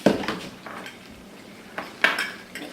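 A fork clinks and scrapes against a bowl while stirring a thick, clumping homemade slime mixture, with a few sharp close taps separated by quieter dragging strokes.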